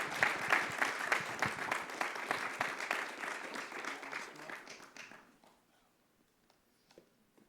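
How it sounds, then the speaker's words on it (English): Audience at a talk applauds a speaker in a hall, steady clapping from the crowd for about five seconds that then fades to scattered claps and quiet. "if we can give another round of applause to Colin Miller."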